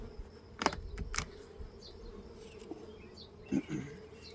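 Russian honey bees buzz around an open beehive during an inspection, a soft steady drone with individual bees zipping close by in brief louder passes, plus a few sharp knocks from handling the hive.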